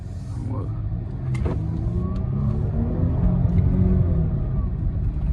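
A Chrysler 300c engine rumbles low and steady from inside the cabin while driving, swelling slightly as it pulls forward, with a few faint clicks over the deep drone.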